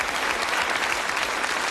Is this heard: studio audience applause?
yes